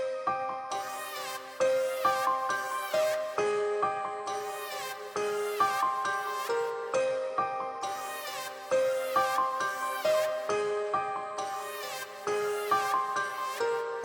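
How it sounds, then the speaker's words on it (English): A reversed counter melody pitched up an octave plays with bright piano top notes in a beat made in FL Studio. Repeating bell-like phrases sit over sustained tones in a steady looping pattern, with no voices. "I kind of reversed it and pitched it up a whole octave. That sounds like this with the counter melody and top notes of the piano."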